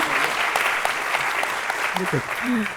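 An audience applauds a publisher at a book event with an author, a continuous rain of clapping heard under a talking voice that continues over it.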